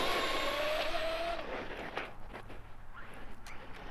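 A Traxxas Maxx V2 RC car launches on pavement with a loud rising electric motor whine and tire noise that tapers off as it speeds away, followed by fainter rolling sounds.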